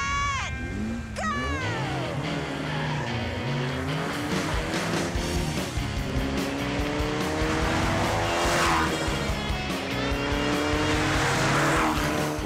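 Drag race cars accelerating hard off the line, engines roaring and rising in pitch through the gears with tire squeal and skidding, loud and close throughout.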